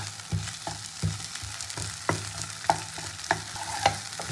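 Masala for a singhi fish curry frying in a pan, a soft steady sizzle broken by rhythmic scraping and stirring clicks of a spatula, fairly quiet with no voices.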